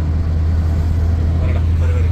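Steady low engine drone and road hum from inside a moving car in Vietnam near Halong Bay. The rumble is constant and close, with a faint voice underneath.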